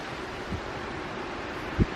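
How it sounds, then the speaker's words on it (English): Steady mountain wind roars and buffets the microphone, with a couple of low thumping gusts standing out against the constant rush. "get out of the wind. It's really windy"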